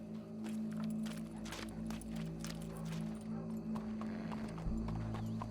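Horse hooves clip-clop at a walking pace in the video game Red Dead Redemption 2, a steady rhythmic series of close thuds over a low ambient hum, with a snort or whinny hinted near the end.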